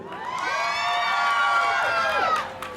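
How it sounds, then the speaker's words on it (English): An indoor crowd at a Diwali cultural show in New York City cheers and whoops for former Guyanese president Bharrat Jagdeo, with loud overlapping voices swelling and then tapering off. "a big round of applause for the president, the people's president"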